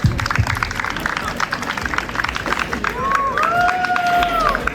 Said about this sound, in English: Round of applause for the gutsy answer.